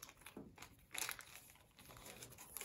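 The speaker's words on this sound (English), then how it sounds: "fold those ends in" Paper being folded for homemade paper sandals, with soft crinkling and creasing rustles, a sharper crumple burst in the middle, close and fairly quiet.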